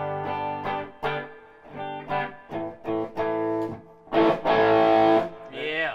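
An electric guitar played through a Chesapeake Effects overdrive pedal rings out in a series of distinct overdriven chords and notes with pauses between them, ending in a denser, brighter strummed burst.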